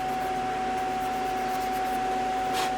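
A tool steadily rubs and rasps inside the tone channel of a wooden duck call during deburring, a continuous close scratchy friction sound with a faint steady hum beneath and no talking.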